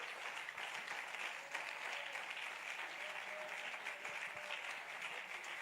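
A church congregation applauding during a Sunday service, a steady wash of clapping at moderate distance that holds evenly throughout.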